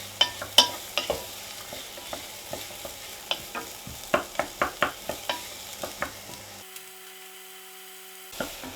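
Chopped vegetables are stirred and fried in a pan, a loud close series of rhythmic scraping clacks over a soft sizzle, stopping near the end.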